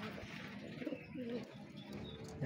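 Racing homer pigeons coo softly in a loft, low rolling calls that repeat faintly beneath a quiet background of distant voices.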